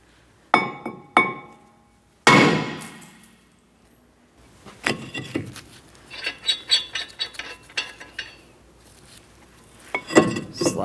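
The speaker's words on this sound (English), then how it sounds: "Let's continue on with the hammer." Sharp metallic hammer strikes knocking a brake rotor off a 2004-2008 Pontiac Grand Prix, a couple of isolated hits followed by a loud clang and then a cluster of quicker, lighter knocks.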